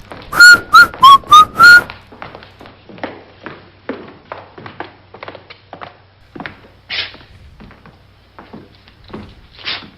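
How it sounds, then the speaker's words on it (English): Five short, bright whistled notes in quick succession, followed by tapping and clicking mechanical sounds with occasional creaks. "Whistle while you work."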